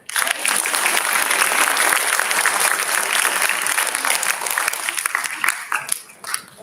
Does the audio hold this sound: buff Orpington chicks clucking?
no